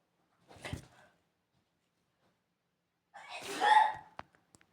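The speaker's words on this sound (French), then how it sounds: "ma mère elle éternue des fois, c'est pour ça" A woman sneezes in the background of a quiet room. A short faint burst comes first, then after a pause a louder, fuller sneeze follows with a few small trailing clicks.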